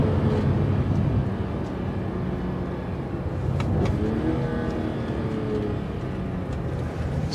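A bone-stock BMW E46 M3 engine drones steadily from inside the car while driving, a constant loud road-and-engine hum with slight swells in pitch and no speech.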